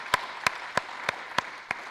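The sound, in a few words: conference audience applause for gold sponsors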